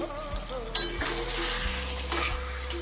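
Cauliflower frying with spices in a pan is stirred, soft scraping strokes and a couple of sharp utensil knocks against the metal over a low sizzle, close and alone.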